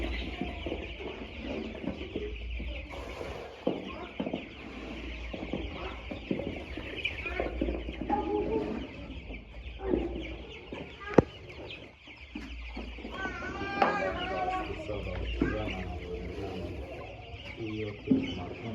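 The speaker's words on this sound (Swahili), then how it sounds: "Hawa ni vifaranga wa siku 7." Week-old chicks peep and cluck continuously at close range inside a poultry brooding area, a dense chatter of small overlapping calls with some low background noise throughout.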